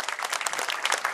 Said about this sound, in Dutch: Ja, applaus voor Daan.